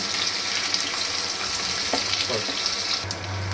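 A cup of onions frying in a pan for a duck curry, a steady broad sizzle with faint scraping and stirring ticks, continuous and close, with no one talking.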